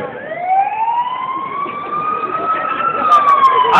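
A loud wailing siren rises and holds a steady tone, sounding close by, with no voices over it.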